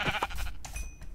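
A sheep in a video game gives a short bleat, close and fairly quiet, heard alone without talk.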